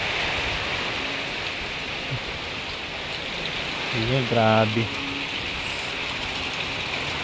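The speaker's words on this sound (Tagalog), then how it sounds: "Oh, pawala-wala naman ang ulan pero mamaya na naman lalakas na naman yan." Steady rain drums on metal roof sheets during a stormy spell, a dense, even hiss that fills the whole stretch; a voice speaks briefly near the middle.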